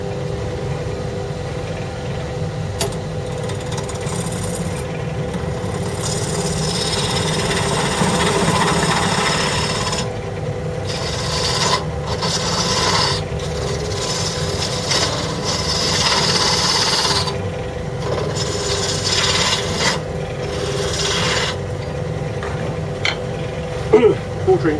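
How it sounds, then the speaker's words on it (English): A wooden mushroom spins on a lathe while a 1/2 inch spindle gouge cuts it, giving a steady, close, rasping shave over the motor's hum that breaks off and starts again several times. "switch to my 1/2 inch spindle gouge"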